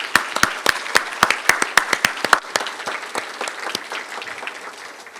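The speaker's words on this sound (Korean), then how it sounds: "격려와 감사의 의미로 박수 한번 드리고 시작하면 어떻습니까?" Audience applause at a leaders' summit event, with sharp distinct claps at first that thicken into steady clapping from a crowd and then gradually fade.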